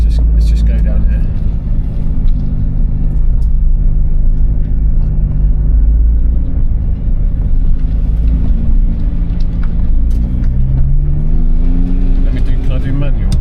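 A Nissan GT-R R35, a cheap, faulty car under repair, rumbles with a deep, steady engine note as it pulls through gears from the cabin. People talk throughout.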